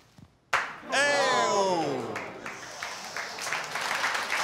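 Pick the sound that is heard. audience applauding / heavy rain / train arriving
audience applauding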